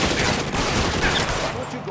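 Dense, sustained gunfire in the L.A. Noire video game, a rapid fusillade of overlapping shots filling the whole stretch at steady loudness, with faint voices underneath.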